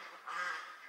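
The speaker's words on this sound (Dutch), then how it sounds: "Ik hoor een paar ganzen komen." Geese call in a brief honking burst near a Dutch arable farm, the calls swelling in the middle and carrying moderately loud over steady outdoor background.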